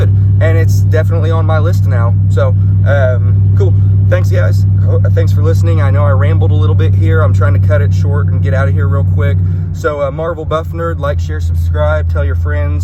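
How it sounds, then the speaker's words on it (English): Pickup truck driving, its engine giving a constant low drone beneath close continuous talk, fading slightly near the end. "Sorry if you hear my truck in the background."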